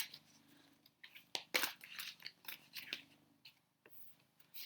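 Tarot cards are shuffled close up in quiet, producing a run of crisp papery flicks, riffles and taps, with one louder burst of riffling partway through and no talk.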